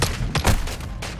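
Gunfire erupts in a close firefight in the Call of Duty: Modern Warfare II video game campaign, a rapid burst of overlapping sharp shots and booms packed into about a second.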